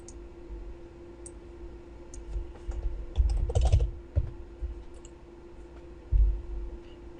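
Fast keystrokes tapping on a computer keyboard while entering input into a Python program, an uneven run of light clicks with a few heavier bursts, close and alone with no talking.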